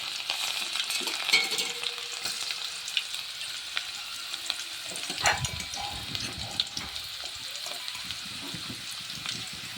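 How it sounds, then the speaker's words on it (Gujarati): Chopped garlic frying in hot oil with asafoetida in a pan for a Kathiyawadi dhokli curry, with a continuous close sizzle, stirring scrapes and small bursts of crackle throughout. "અને જે આપણે લસણ કટિંગ કરીને લીધું એ પણ નાખી દઈએ, એટલે તેલમાં સરસ રીતે ચડી જાય"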